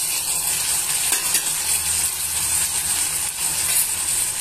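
Tomato and raw mango pieces fry in a pan for a brinjal, drumstick and raw mango curry, giving a steady, close sizzle with faint stirring scrapes and no talking.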